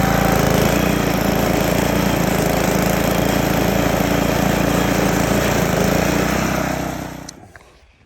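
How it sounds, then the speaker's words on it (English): Gas-powered power sweeper clearing lawn clippings in a shady yard, a loud, steady close-up engine drone with a buzzing, rattling edge that holds constant before quickly winding down and cutting off near the end. "Then I've got a power sweeper."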